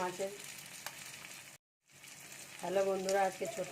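Small mourola fish frying in hot oil give a steady close sizzle that cuts out briefly, then returns with a rougher bubbling crackle.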